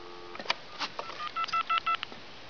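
A rapid sequence of touch-tone beeps from a wooden wall phone's redial plays in quick succession, short even pulses after a couple of clicks, fairly faint and alone.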